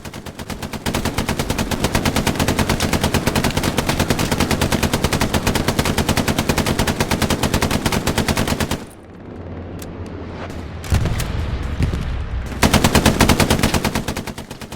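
Sustained automatic machine gun fire in the World War II shooter game Hell Let Loose, loud rapid bursts for about nine seconds, a brief lull with distant battle noise, then heavy firing resumes near.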